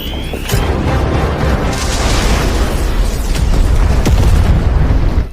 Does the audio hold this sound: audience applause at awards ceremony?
no